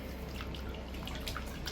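Seawater splashes and drips steadily as fish are washed by hand, a close, continuous wet trickling with no speech.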